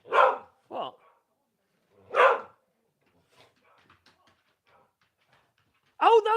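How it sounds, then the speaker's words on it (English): A dog barks from a computer's speakers in a few loud separate bursts with short gaps between them, faint rustling noises in the quiet stretches, and another loud bark cluster at the end. "Oh no, that's not Dora barking."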